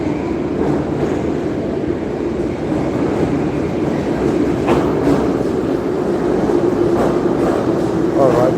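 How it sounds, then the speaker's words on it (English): A train pulls into a station with a steady loud rumble and drone, faint squeals and clatter over the top, heard close from the platform. "All right, the train is here."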